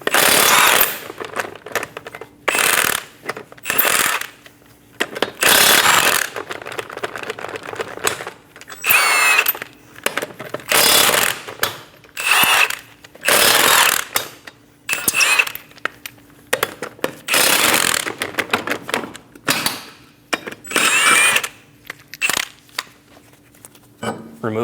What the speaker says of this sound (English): Using a 21mm socket, remove the 5 lug nuts.